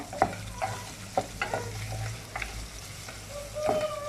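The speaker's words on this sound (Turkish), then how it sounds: "Önden kuyruk yağı vardı. Onu kavuruyorum." Tail fat sizzles as it fries in a pan, a low crackle punctuated by scraping stirs and clinks every half second or so, close and fairly quiet, with no talking.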